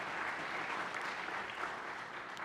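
Audience applause at a Berks County celebration kickoff event, honoring a high school jazz band: a steady, dense wash of clapping that holds evenly throughout without pauses.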